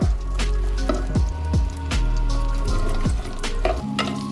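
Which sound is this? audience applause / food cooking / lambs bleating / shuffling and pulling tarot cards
food cooking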